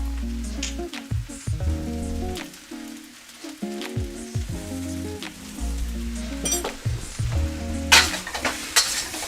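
Soy sauce splashes into a hot wok of Chinese sausage fried rice and sizzles loudly. Stirring and clinking utensil sounds cut in and out over the steady frying hiss.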